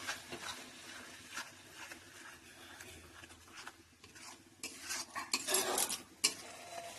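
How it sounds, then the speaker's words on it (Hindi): Onion and tomato paste stirred in a metal pan, a spoon scraping and clinking against the pan with a light sizzle, the scraping growing louder and busier toward the end. "ପିଆଜ ଟମାଟୋ ପେଷ୍ଟ ଭଲ ଭାବରେ ମିଶାଇ ଦେବା।"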